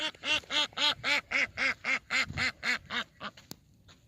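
A duck quacks in a steady run of about a dozen loud, nasal calls at a near-even rhythm, heard close and alone, tapering off near the end.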